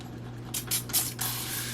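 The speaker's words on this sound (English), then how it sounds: "I'm going to go in with my handy dandy spray bottle" A spray bottle of water hisses out three or four short, sharp bursts in quick succession, close up over a low background hum, wetting hair.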